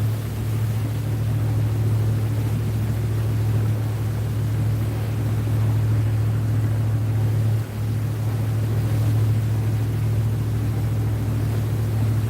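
Twin boat engines idle steadily at low RPM, around 1200 to 1400, as a constant deep droning hum that stays near and even throughout with no talk.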